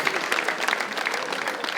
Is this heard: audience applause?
yes